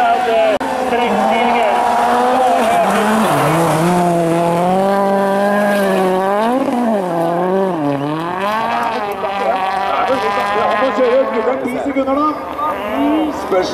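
A rally car on the Hagfors sprint special stage of the 2012 WRC Rally Sweden roars loudly past, its engine note rising and falling sharply through repeated revs and gear changes.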